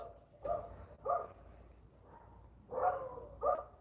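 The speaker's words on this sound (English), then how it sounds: "Can you guys hear those dogs?" Several distant dog barks come in short separate bursts over steady outdoor background noise in Shamokin, Pennsylvania, with no talking.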